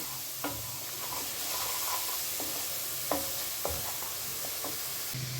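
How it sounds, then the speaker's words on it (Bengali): Cumin and chilli masala fries with turmeric in oil over a low flame, a soft continuous sizzle broken by a few light scrapes and clicks of stirring, close and fairly quiet. "মশলাটা ভাজা হয়ে তেল বেরিয়ে আসছে"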